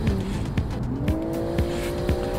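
An executive car in a racing video game revs hard against its limiter, the engine note rising and dropping in quick bursts with sharp tire squeals cutting in, loud and close.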